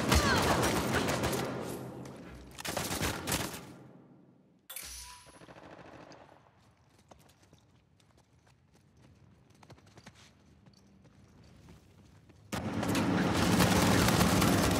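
Uncharted 4 multiplayer gunfire crackles in loud rapid bursts at the start and again at the end, with quieter scattered shots and movement in between.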